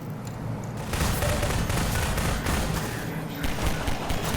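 Rapid bursts of submachine-gun fire in Half-Life 2: Episode One crackle continuously over a dense, loud battle mix with booming impacts.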